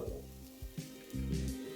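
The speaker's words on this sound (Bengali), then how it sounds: "আর একটু ভাজা হয়ে গেলে আমি এখানে দিয়ে দিচ্ছি বাকি ভেজিটেবলগুলো, যেমন একটু বিনস, অল্প একটু গাজর" Vegetables such as beans and carrots frying in a pan for veg fried rice, a close crackling sizzle with a few stirring scrapes over less than two seconds.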